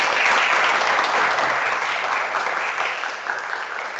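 An audience at a conference on port innovation claps together in a dense, sustained burst of applause that stays loud throughout and tapers slightly toward the end.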